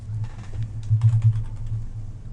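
Keystrokes on a computer keyboard during a spreadsheet exercise: a quick run of close, light clicks with a few louder taps in the middle, alone with no talking.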